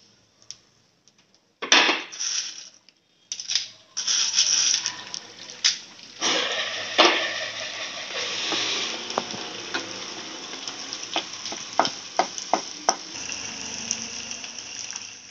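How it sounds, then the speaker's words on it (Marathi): Edible gum fries in hot ghee on a low flame, starting after a short silence as a loud, crackling sizzle that settles into steady frying, with scattered sharp pops and stirring taps. "डिंक सगळा तळून घेऊया."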